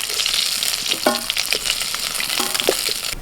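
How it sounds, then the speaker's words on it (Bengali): Fish fry in hot oil in a wok, a dense, continuous sizzle with faint stirring clatter close up and no voices. "যা মাছ আছে দুবারে ভেজে নেবো"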